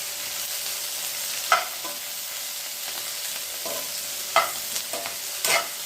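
Green chillies fry in a little oil over medium heat, a soft steady sizzle broken by a few sharp clicks and scrapes of a spoon stirring the pan; no voices.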